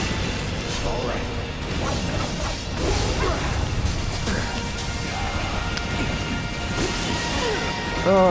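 Lightning spell cast during a Final Fantasy VII Remake battle: dense crackling crashes and bursts over a busy game soundtrack, sustained throughout with no clear pauses.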